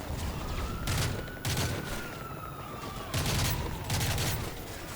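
Rapid bursts of gunfire in Call of Duty: Modern Warfare 3, several loud volleys separated by short gaps, over a steady background drone and a faint wailing tone.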